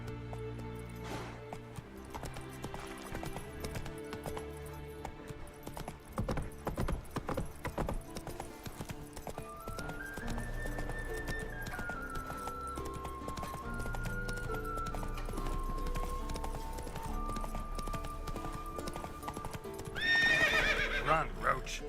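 A horse clip-clops at a gallop in the video game Witcher 3: Wild Hunt, with steady hoofbeats over music and ambient game sound and a brief whinny near the end.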